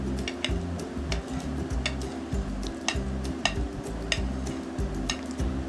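A spoon stirs chopped onion, green chilies and tomato into bottle gourd raita in a bowl, giving a steady run of light clinks and scrapes over low, droning background music.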